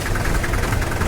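Tractors at a farmers' tractor parade on a national holiday idle together in a dense, steady rumbling drone, loud and close, with no break in the engine noise.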